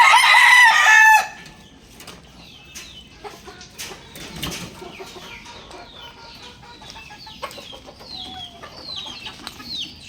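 White Kelso gamefowl roosters crow loudly up close at the start, then a flock clucks and calls at lower volume with occasional wing flaps.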